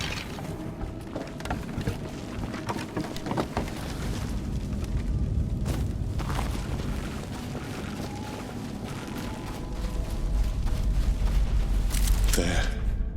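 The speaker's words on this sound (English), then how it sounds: "Yara's explosion." A game explosion from Yara in Flintlock: The Siege of Dawn, a long rumbling, churning blast with mechanical grinding and debris clatter, swelling again toward the end, loud and sustained with no talking.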